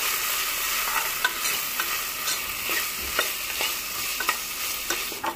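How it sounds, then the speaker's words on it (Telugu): Ginger garlic paste sizzles and fries in a pan while being stirred steadily, with soft scraping strokes recurring every half second or so over a constant hiss, close and alone, as the base for a mutton curry. "ఇప్పుడు ఒకసారి మొత్తం అల్లం వెల్లుల్లి పేస్ట్ని కూడా కలుపుకోవాలండి"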